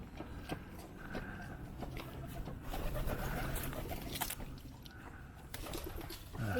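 Pigeons or doves coo and call along a wooded hillside nature trail, small bird sounds scattered through the stretch at moderate distance, mixed with steady outdoor background noise.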